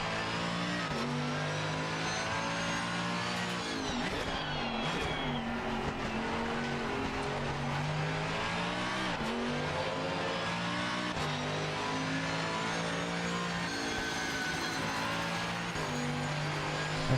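Race car engines in a sim racing game, chasing a pink Ferrari, drone and rev steadily throughout, with pitch rising and falling through gear changes and other cars close by, loud and continuous with no talk.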